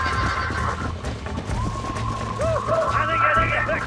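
A horse in the video game Red Dead Redemption neighs in sharp, rising whinnies over clip-clopping hooves, with game dialogue running beneath.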